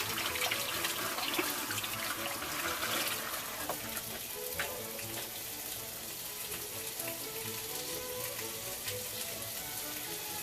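Hands are washed with soap under a running kitchen sink tap, a steady close hiss of flowing water with faint splashing, continuous throughout and with no talk.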